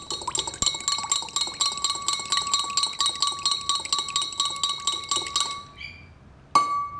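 A fork stirs smoke machine flavour mixture in a glass, clinking rapidly and rhythmically against the sides for about six seconds, then a single sharper ring near the end.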